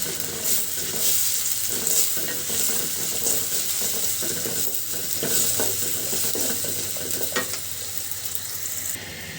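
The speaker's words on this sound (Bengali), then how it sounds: "পেঁয়াজটা খুব সুন্দর করে ভাজি করে নিব। দিচ্ছি কয়েকটা কাঁচামরিচ ফালি" Sliced onions and green chillies frying in a pan, a steady close sizzle broken by repeated stirring scrapes and clinks, with no talk.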